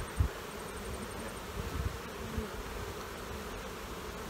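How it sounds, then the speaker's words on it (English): Honeybees drone in a steady, close buzz inside a hive's lower brood box during an autumn split, with a few soft knocks as frames are handled. "So we'll go down and into this lower brood box and get some more young nurse bees."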